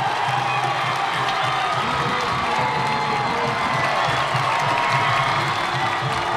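A high-school football crowd at a Brownsville Veterans Memorial Chargers game roars and cheers after an interception, a dense, sustained wall of cheering and shouting that holds steady at full volume throughout.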